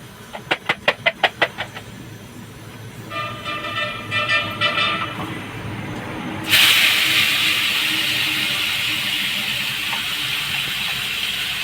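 A run of short electronic beeps comes first. Then a ground spice paste of tomato, ginger, chili and onion drops into a hot wok with a sudden loud sizzle that settles into a steady, close hiss.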